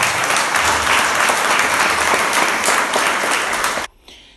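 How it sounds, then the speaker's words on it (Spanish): A crowd applauds loudly and steadily to welcome the presidential designate on a visit to Chinacla, La Paz, the clapping cutting off abruptly near the end. "Un aplauso para ella."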